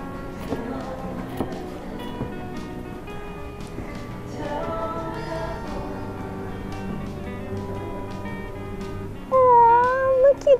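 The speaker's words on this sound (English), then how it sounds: "This is the third cat we've seen today." A live cat meows inside a cigar shop in a historic Texas town, several short meows rising near the end over background room noise, footsteps and people talking.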